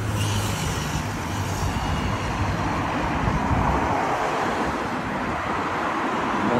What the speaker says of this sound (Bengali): রাত্রে গাড়ি অনেক আওয়াজ হইতেছে